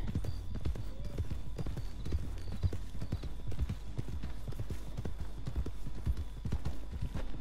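Mule hooves clip-clopping in Red Dead Redemption 2, a steady walking rhythm of close, distinct hoof strikes with soft background ambience throughout.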